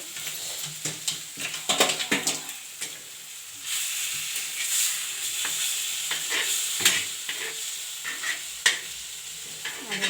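Masala-coated fish frying on a tawa with a little oil, giving a close, continuous sizzle mixed with clinks and scrapes of a spatula, and no talking.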